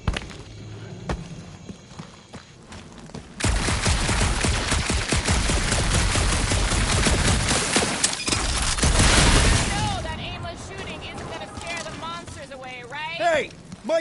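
Rapid blaster fire in Marvel's Guardians of the Galaxy bursts in after a few seconds and keeps rattling loudly for several seconds, then fades out beneath voices talking.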